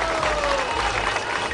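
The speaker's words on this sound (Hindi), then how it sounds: "ये जोरदार ताली लगाओ इस सेन का आपके लिए।" Crowd applause at a public rally led by the chief minister in Birgaon municipal corporation, a steady wash of clapping over a thick murmur of people with a faint tonal hum running through it.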